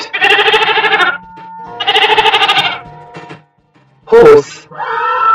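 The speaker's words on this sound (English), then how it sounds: "Goat." A goat bleats in a few loud, wavering calls, two long quavering cries followed by a sharper, shorter bleat and the start of another, with brief pauses between them.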